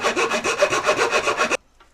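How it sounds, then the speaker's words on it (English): A rasp files the wooden head of a war club with about nine quick, even back-and-forth strokes, loud and close. The strokes then stop abruptly, and a short, faint scrape follows. "Now that I got that cut, I'm going to use the round end of the rasp"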